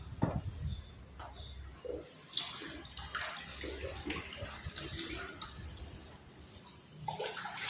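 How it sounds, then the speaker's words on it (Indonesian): A sheet of hot glue is dipped into a tub of water to cool, with sloshing and splashing water moving in bursts, close up, beneath a quiet room background. "Kita celupkan ke dalam bak air, celupkan sampai panasnya hilang."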